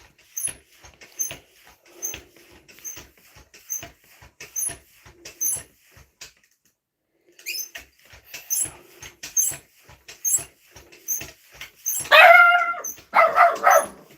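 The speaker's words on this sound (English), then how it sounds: "My dog's yelling at the postman." A dog barks at the postman. Sharp ticking and tapping come first, with a pause in the middle, then loud close barks burst out near the end.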